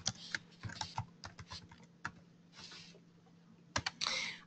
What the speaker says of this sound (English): I'm just going to type some dummy information